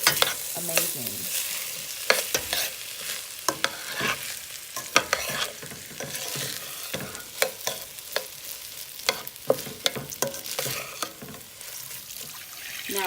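Uncooked rice stirred and sautéed with ingredients in a pot for seasoned yellow rice, giving a soft continuous sizzle broken by frequent scraping, clacking spoon strokes against the pot, with no talking.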